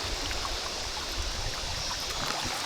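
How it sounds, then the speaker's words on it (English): River water rushes steadily as a boat drifts downstream through jungle in Krabi, Thailand; a continuous, close, full-band wash with no gaps or voices. "we're in the water, we're on the river, we're flowing down through the jungle."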